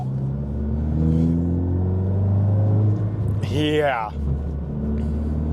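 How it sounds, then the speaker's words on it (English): A tuned Ford Focus ST engine hums and rumbles close by, then a rising turbo spool whistle builds and drops sharply; a voice speaks briefly over the engine. "So let's just get some of that sound in here. Get some of that turbo spool."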